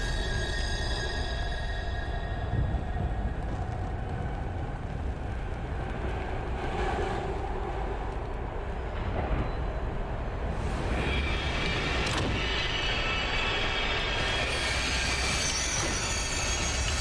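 A burning train in the Here They Lie video game gives off a continuous loud rumble with metallic squeals, rattling and roaring steadily throughout, with no speech.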